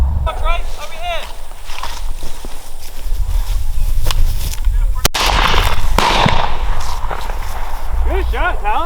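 Shotgun blasts during a dove hunt in Alabama, a few sharp outdoor reports spread through the clip over wind and movement, with people talking nearby.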